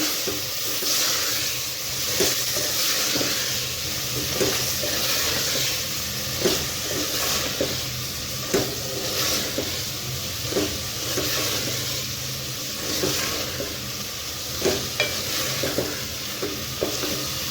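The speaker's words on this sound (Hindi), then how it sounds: "एक दफ़ा इसे मिक्स कर लेंगे।" Spoon stirring salt, red chili powder and turmeric into keema and potatoes sizzling in a pan, steady frying hiss with repeated scraping strokes throughout, close and fairly loud.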